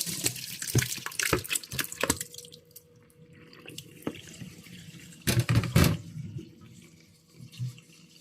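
Boiled water from a kettle pours over spinach in a kitchen for egusi soup, giving short splashing bursts and trickles with quiet pauses between them.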